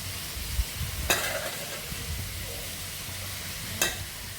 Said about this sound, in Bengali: মশলা কষাই নিচ্ছি